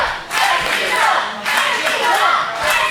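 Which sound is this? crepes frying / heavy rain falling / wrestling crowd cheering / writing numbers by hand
wrestling crowd cheering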